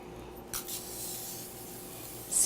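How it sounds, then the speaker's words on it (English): Cooking spray misted onto a baking pan in a kitchen, a soft close hiss with a brief sharper burst early on and a faint continuing spray. "Spray your pan, baking pan. Just a nice good spray."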